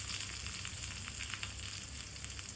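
Chopped garlic with green and dried chillies frying in hot oil for mustard greens, a dense, steady crackling sizzle that stays close and even throughout.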